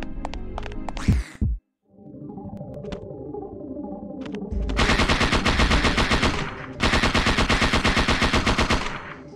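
MP5 submachine gun fire in the Parasite Eve 2 video game: loud, rapid sustained automatic bursts with a brief pause and a sonar-like electronic tone between volleys.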